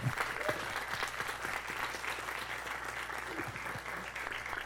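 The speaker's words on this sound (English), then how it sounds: "Let's have one more round of applause for our guests." An audience at a film center talk gives the guests a round of applause, steady, fairly loud clapping from a crowd sustained throughout.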